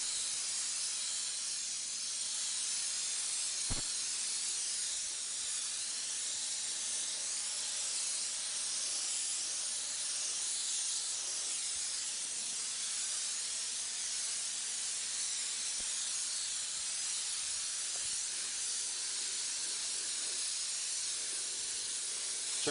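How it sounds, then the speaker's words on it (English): Paint spray gun giving off a continuous, even hiss for a long stretch, close and steady, with a couple of faint clicks and no talking. "Check my spray pattern again."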